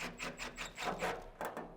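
Screws securing the hopper of a Camp Chef Apex pellet grill are undone, a close series of short, rhythmic scraping and squeaking turns from a screwdriver.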